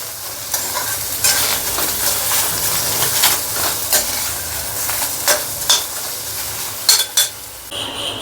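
Spices dry-roasting in a pan for Maharashtrian bhogi bhaji, stirred with a utensil that scrapes and taps against the metal in irregular strokes over a steady hissing sizzle, close and loud, with no speech.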